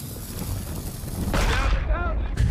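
A gunpowder keg explodes in Sea of Thieves, a sudden loud blast partway through that rolls off over ongoing gameplay noise, with players' voices around it.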